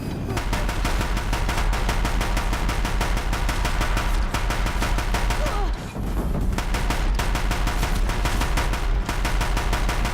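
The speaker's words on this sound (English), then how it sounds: "If the Deathbringers keep firing, this bridge will go." Deathbringer war machines in Horizon Zero Dawn pour out sustained, dense rapid gunfire, loud and continuous with a brief dip near the middle, layered over a heavy game soundtrack.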